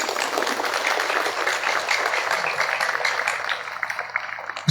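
A crowd at an Islamic boarding school gathering in Kendari applauds in a steady, dense wash of clapping for several seconds.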